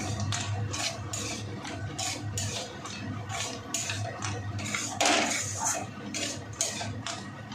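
Potatoes go into a pan of banana-flower curry and are stirred, giving repeated clinks and scrapes of a utensil against the pan over a steady low background, fairly close with no talk.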